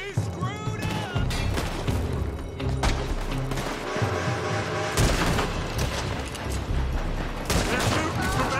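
Heavy gunfire in a Red Dead Redemption 2 shootout, with dense volleys of loud rifle and pistol shots, booming impacts and crashes layered continuously, punctuated by shouting voices.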